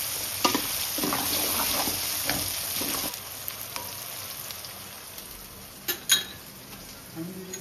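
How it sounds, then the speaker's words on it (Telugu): Tomatoes frying in a pan for a spicy fish curry while being stirred, giving a soft steady sizzle broken by repeated scraping and clinks of a spoon against the pan, close and fairly quiet. "మంచిగా వేయించుకోవాలి టమాటా పండు"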